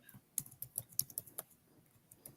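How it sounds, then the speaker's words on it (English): Several people typing on computer keyboards, a quiet irregular clatter of key presses with small bursts of quick taps, close and alone without talk. "All I can hear is people typing."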